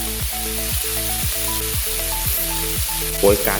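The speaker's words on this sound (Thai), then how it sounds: "ตามด้วยหมูสามชั้นเลยครับ ลงไปผัดต่อครับ" Pork belly stir-fries in a pan, giving a steady sizzle with rhythmic stirring scrapes. A sustained melodic tone runs underneath, and a brief spoken phrase comes near the end.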